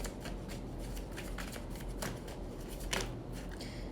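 A tarot deck being shuffled and cards drawn during a reading, a continuous close riffle of flicking and sliding card edges with quick rhythmic bursts over a low steady background hum.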